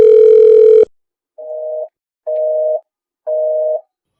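An unanswered phone call sounds through a handset: one longer tone breaks off, then three evenly spaced short ringback beeps follow in otherwise silent air.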